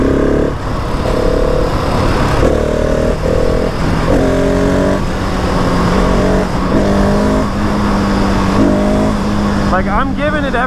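A 2020 Husqvarna 701 SM single-cylinder motorcycle revs hard through gears for a wheelie: a loud, close engine note that climbs in pitch repeatedly with each gear, heavy wind rumble throughout, and a voice talking over it.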